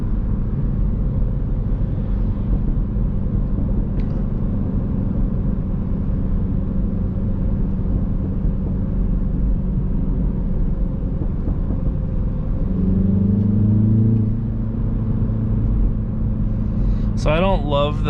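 A MINI Cooper S engine drones steadily while driving, a loud low rumble that rises briefly in pitch near the end, with a person talking over it.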